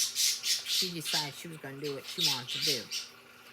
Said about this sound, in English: Also, you'll hear a lot of birds in the background.